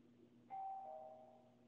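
A doorbell chimes once in a room, a single sustained tone that rings out and slowly fades, moderately loud over a low steady hum.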